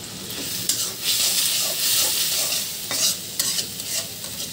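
Ground turmeric, coriander and chili being stir-fried for a pointed gourd curry: a steady, close sizzle and fry with continuous scraping and stirring in the pan, and a few sharper clinks of the spatula.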